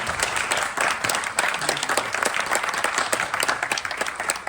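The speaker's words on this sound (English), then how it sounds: "give them a round of applause as well" A roomful of people at a tour guide association's annual general meeting applauds the committee chairs, with steady, dense clapping held for several seconds at close range.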